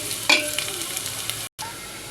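Chopped onions and spice paste sizzle in oil in a pot, a steady close hiss with a sharp burst near the start as ingredients drop in, then a brief cut before the frying resumes.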